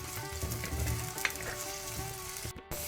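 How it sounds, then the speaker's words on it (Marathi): Finely chopped onion sizzles in hot coconut oil in a pan, browning as it fries: a steady, close crackling hiss that drops out briefly near the end, with no voices. "तेल ऊन जाल्लेंत एक ल्हान पियाव बारीक शिनून घालचो. पोळटार ब्रावन जाता म्हणसर भाजून काडा."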